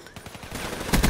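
Rapid automatic fire from an HVK-30 assault rifle in Black Ops 3: a short run of quick, evenly spaced shots ending in a louder burst.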